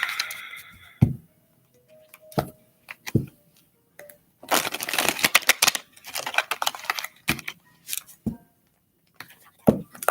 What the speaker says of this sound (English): shuffle up the tea leaf fortune cards